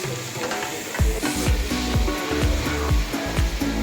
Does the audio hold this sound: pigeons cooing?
no